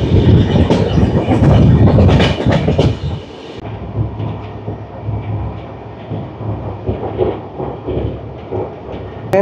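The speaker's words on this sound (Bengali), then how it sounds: "8 থেকে 80 সবারই ভালো লাগে এই ট্রেন জার্নি।" A Duronto Express on the Howrah–Bhubaneswar route running on rails, a steady rumble and clatter of wheels heard from inside the coach, louder for the first few seconds and then settling into a softer continuous drone.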